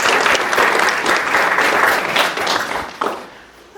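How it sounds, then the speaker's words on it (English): Audience applause fills a room at a tech meetup for creatives and coders, a dense, steady wash of many hands clapping for about three seconds, then thinning out near the end. "Big round of applause."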